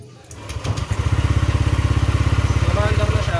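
A Honda Click GC 125i scooter engine starts and settles into a steady, rapid idle, close and loud, with an even pulsing chug throughout.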